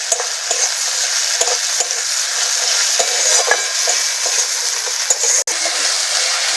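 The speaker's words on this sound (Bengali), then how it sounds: "আদা রসুনটা ভালো করে ভেজে নেব।" Ginger garlic paste fries in a pan with a dense, steady sizzle, broken by repeated scraping strokes of a spoon stirring close by.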